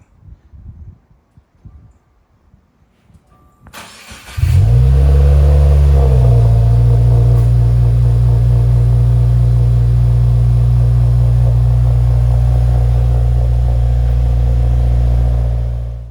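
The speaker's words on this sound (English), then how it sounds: "Looks like we're gonna get a cold start." A Subaru WRX cold start: after a few seconds of quiet shuffling, the starter cranks briefly and the engine catches, settling into a loud, steady, droning high idle that holds close by until it cuts off at the end.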